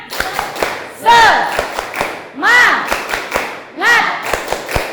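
A school class claps a quick rhythmic spirit-clap pattern together, punctuated by three loud chanted shouts from many voices.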